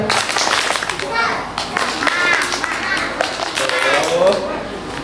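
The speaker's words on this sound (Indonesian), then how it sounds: "ayo tepuk semangat." Schoolchildren at an elementary-school assembly join in a rhythmic spirit clap, sharp claps in quick patterns, with children's voices chanting and calling over the clapping.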